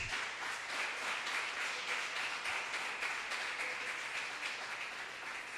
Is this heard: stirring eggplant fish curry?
no